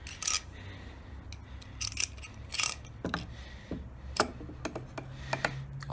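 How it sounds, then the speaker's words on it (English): A clamp is tightened by hand to hold a wooden teething-necklace bead piece centred in a jig, giving a scattered series of close, sharp ticks and clicks with brief pauses between them and no talking. "Clamp it in place"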